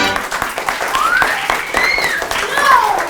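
Middle school students applaud at a school drama event, a dense burst of clapping under excited children's voices and whistle-like calls.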